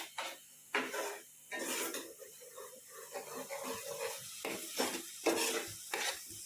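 Masala paste for an egg curry being stirred and cooked in a pan, a spoon scraping repeatedly with a soft sizzle and occasional clinks of metal, close and steady throughout.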